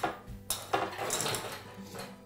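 A metal oven rack is pulled out of an oven and handled, giving a few clanking, scraping metallic knocks close by, with no talk over it.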